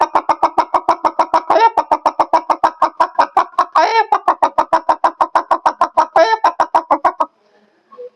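A performer's voice imitates a hen and a rooster in a mimicry act: a fast, steady run of loud clucks near the mic, broken three times by rising crow-like calls, then it stops abruptly.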